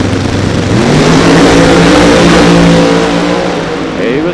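Supercharged drag racing car launching at a Sonoma drag strip, a loud, close engine roar that climbs steadily in pitch through the run and fades slightly toward the end.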